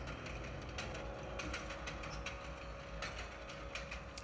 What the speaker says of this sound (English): It's just a train simulator.